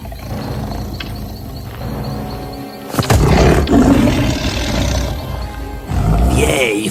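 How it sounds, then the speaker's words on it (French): A tiger growling, a deep rumbling roar that swells loud and close, sustained over several seconds with low throaty surges. "la femme entendit un tigre grogner"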